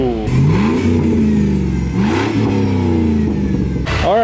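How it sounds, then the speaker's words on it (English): A loud, throaty truck engine with open headers revs repeatedly nearby, its raw unmuffled roar climbing and dropping in pitch with each blip of the throttle. "He's running open headers on his truck."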